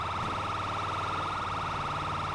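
Several emergency vehicle sirens in a GTA FiveM roleplay game wail together in a loud, continuous, pulsing blare over engine noise, with no pause.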